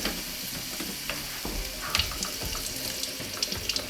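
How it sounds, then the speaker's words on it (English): White wine poured into a hot pan of onions for keto chicken Alfredo, a steady splashing, bubbling sizzle close by with faint clinks, no talk. "At this point, I'm going to go ahead and add the white wine in."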